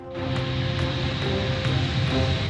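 Engines of a Boeing B-52 Stratofortress bomber drone with a steady, loud, harmonic roar, broken by faint rhythmic pulses roughly every half second, with no voices heard.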